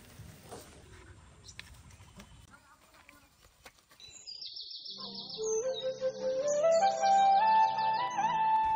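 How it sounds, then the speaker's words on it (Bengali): An oriental magpie-robin (doel), just freed from a net, breaks into loud, close, melodic whistling calls in the second half. Soft rustling and handling noise come before the calls begin. "এই দেখো আমাকে জাতীয় পাখি দুইয়েল"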